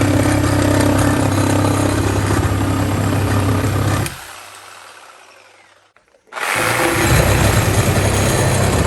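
Makita cordless reciprocating saw cutting with a blade, a loud, steady buzzing roar that runs for about four seconds, stops abruptly into near silence, then starts up again just as loud.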